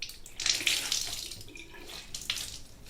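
Water splashing and trickling into a sink as a wet washcloth is wrung out, a few close bursts of dripping and running water with quieter gaps between them, no talking.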